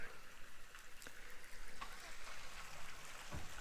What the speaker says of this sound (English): you can hear the stream going down through there